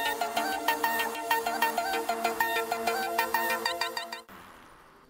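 A phone ringtone chimes in a bright, repeating melodic pattern of quick electronic notes, loud and close, before cutting off abruptly near the end.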